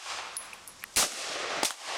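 Gunfire at an outdoor shooting range: two sharp, distant-sounding cracks about half a second apart, faint against a hissy, windy background.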